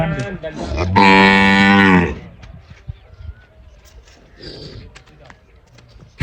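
A loud, close moo from a buffalo or cow sounds for about a second, followed by quieter farmyard noises, soft shuffling and faint background calls.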